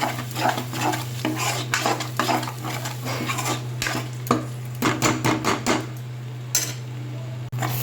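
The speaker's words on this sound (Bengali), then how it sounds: "লো হিটে মশলাটা আমি পাঁচ মিনিটের মতো কষিয়ে দেবো" Spice paste for mutton biryani cooks in mustard oil over low heat, with metal clinks and scrapes of stirring against the pot and a soft sizzle over a steady low hum.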